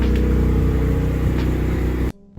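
A Mazda RX-8 with a BHR midpipe, heard from inside the cabin with the windows up, drones loudly with a steady rotary engine hum that cuts off abruptly near the end.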